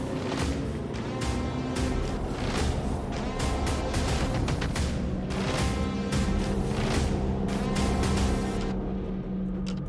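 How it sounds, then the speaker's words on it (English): Volkswagen and Toyota touring race cars of the SATC Supacup roll out onto the track at MSA Extreme Festival 2024, several engines roaring loudly together with pulsing revs and a continuous throaty drone. "Cars are rolling out."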